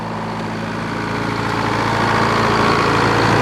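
A sawmill engine idles with a steady, close, throbbing hum that holds even and swells slightly louder toward the end, with no voices over it.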